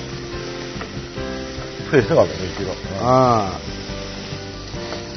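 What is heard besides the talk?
pan-frying chicken skin without oil, sizzling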